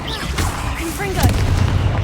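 A booming blast from the fiery Confringo explosive spell in the video game Hogwarts Legacy, a low rumbling burst with crackling debris over combat noise, loud and close, with a spoken voice in the mix.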